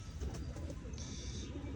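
Teddy pigeons at a pigeon sale in Tarn Taran coo softly in a brief, continuous murmur against a noisy background.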